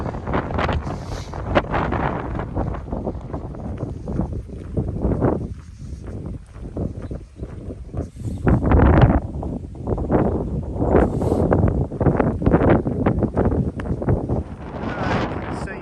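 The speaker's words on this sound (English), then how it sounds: "Oh, the wind." Strong wind buffeting the microphone outdoors on a hiking trail beside a pond, loud rumbling gusts that rise and fall in irregular bursts throughout.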